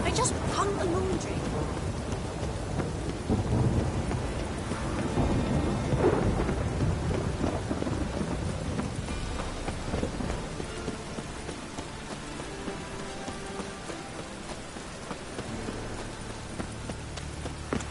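Steady rain pours through a thunderstorm in The Witcher 3: Heart of Stone, with low rolling thunder rumbling beneath the downpour; a voice speaks over the weather at moments.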